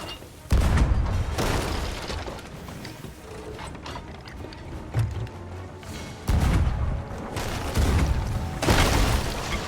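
Cannon fire in the pirate game Sea of Thieves, enemy ship guns answering with heavy booms at irregular intervals, several deep thuds over a cluttered background of creaking and mechanical noise.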